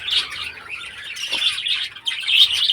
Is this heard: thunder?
no